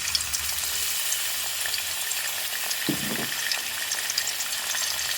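Spices fry in hot oil for a fish curry, giving a loud, dense, steady sizzle that stays close and continuous throughout, with a brief low knock midway.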